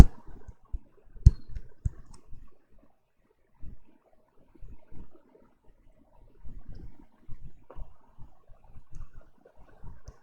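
A computer mouse is clicked in a quiet room, with a few sparse, faint clicks and one sharper snap, alongside soft low handling thumps.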